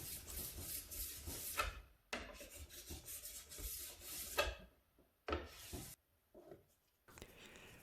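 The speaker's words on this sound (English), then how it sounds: "I've only applied the rub-on wax to the tip and tails of the ski" Waxless cross-country ski base being rubbed with a block of rub-on wax, steady scraping strokes in bursts separated by brief pauses, close and fairly loud with no talking.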